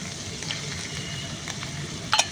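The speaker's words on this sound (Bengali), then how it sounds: "লবণটা দিয়েও খুব ভালো করে একটু ভেজে নেব পেঁয়াজের সাথে" Chicken fries with onion, ginger-garlic paste and salt in a pan. A steady close sizzle with light stirring runs throughout, ending in a brief clink, and no one talks.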